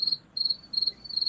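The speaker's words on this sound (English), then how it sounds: "I heard crickets." Crickets chirp in close, high-pitched trilling bursts, three or four pulses separated by brief gaps, with no other sound.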